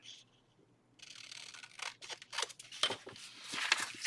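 Scissors snipping through the top of a package, a series of crisp, close cuts and crinkly rustles after a brief quiet start, growing busier toward the end.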